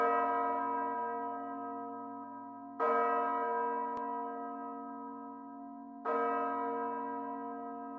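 A large church bell tolls twice, each strike ringing out loud and slowly decaying with a rich, humming resonance.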